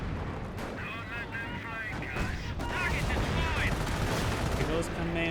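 Artillery barrage in Company of Heroes, a dense rumbling stream of shell impacts, explosions and gunfire under a steady, fast commentary voice.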